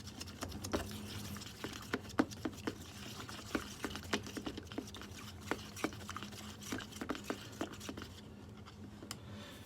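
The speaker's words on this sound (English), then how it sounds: "And then we'll give it a good mix." A mixture stirred in a bowl, a faint, steady run of small wet clicks and pats close by, repeating irregularly without speech.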